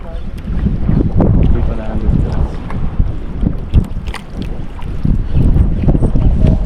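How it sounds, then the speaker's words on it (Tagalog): Strong, cold wind buffets an open fishing boat at sea, roaring steadily and loudly across the microphone in gusts. "Lamig kasi, lakas ng hangin eh."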